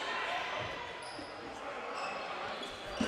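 A dodgeball bouncing during a men's English Super League dodgeball match in an indoor hall, its thud buried in loud, continuous crowd and hall noise under a commentator's voice.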